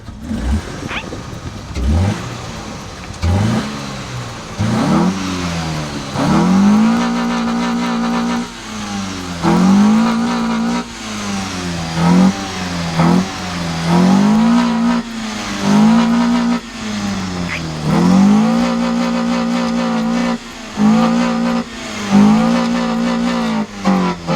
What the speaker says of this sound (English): I'm gonna rev the car nicely for you.